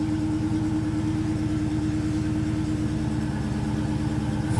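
A 2016 Dodge Charger SRT Hellcat's supercharged 707 HP engine idles close by with a steady, deep, even exhaust rumble, a continuous low pulsing throb and no voices.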